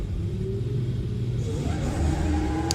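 A Nissan S15 drift car's engine rumbles and revs at a drift event, a steady loud mid-range drone that rises slightly toward the end, with no talk over it.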